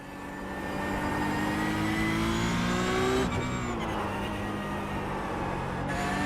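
A car accelerates hard at full throttle on a race track, its engine note climbing steadily in pitch, then briefly dropping at a gear change before pulling on loudly again, with faint tire noise beneath.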